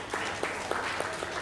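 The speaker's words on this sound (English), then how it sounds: "I want you to applaud, first of all, your moms and dads" Graduation commencement audience at a parish school applauding parents and teachers, a steady wash of many hands clapping together, loud and sustained without a break.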